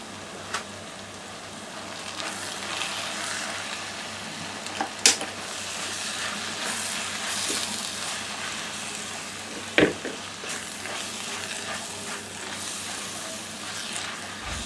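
Chopped onions with coriander powder and garam masala sautéing in a pan for Kerala-style crab roast, a steady soft sizzle with occasional sharp clinks of a spoon against the pan, no talking.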